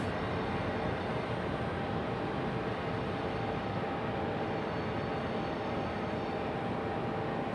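An American Airlines Boeing 737 jet airliner at Raleigh-Durham International Airport gives off a steady, broad engine roar. It holds at a constant level throughout, with no voices.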